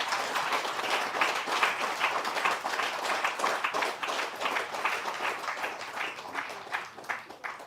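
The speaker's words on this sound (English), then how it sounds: "giving a huge round of applause to our men and women in uniform" A crowd applauds the men and women in uniform at an airstrip commissioning ceremony, with dense, sustained clapping that swells and pulses for several seconds, moderately loud and unbroken by speech.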